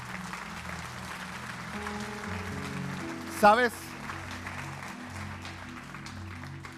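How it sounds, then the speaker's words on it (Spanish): A church congregation bursts into brief applause, a short loud clapping burst rising over organ-like music and a preacher speaking Spanish in a reverberant hall. "Dale un aplauso al Señor"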